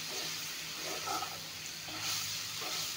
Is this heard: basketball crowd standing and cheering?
no